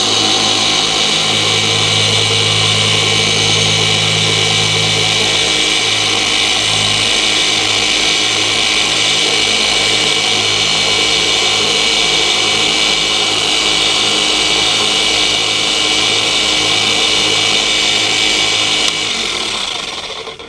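A car paint polisher spins its pad on first speed, giving a steady, loud whirring drone with a lower hum that shifts partway through before winding down at the end.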